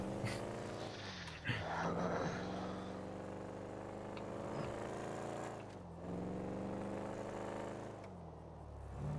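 A car in a video game speeds around the small town of Sandy, its engine droning and revving with shifting pitch and brief dips as it changes gear, fairly faint and steady throughout.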